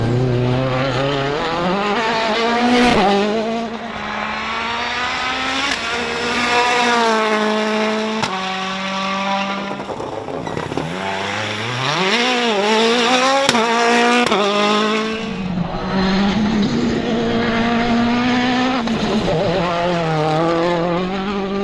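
A Citroën rally car races at the 2015 Rallye Epernay Vins de Champagne, its engine loud and close, revving hard and sweeping up and down through repeated gear changes, with no voices.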